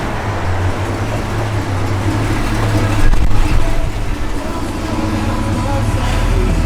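A 1966 Chevrolet Malibu engine idling under the hood with a steady, deep low rumble, loud and close, swelling briefly midway before settling back to an even hum.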